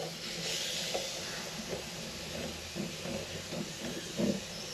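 A handheld steamer hisses steam into the heel joint of a guitar neck during a stubborn neck removal, a steady broad hiss with soft knocks and handling thumps over it.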